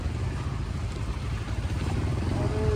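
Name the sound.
motorcycle riding on rough road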